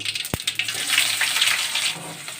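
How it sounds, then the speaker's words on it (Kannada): Chopped onions fry in hot oil with mustard seeds and cumin, giving a close, steady crackling sizzle with a sharp click near the start and no talking. "ಈರುಳ್ಳಿಯನ್ನು ಕೆಂಪು ಫ್ರೈ ಮಾಡ್ಕೋಬೇಕು"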